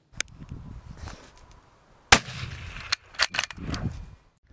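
Sniper rifle and pistol shots ring out during sniper shooting training, several sharp loud cracks spaced irregularly with softer rumbling between, no voices heard.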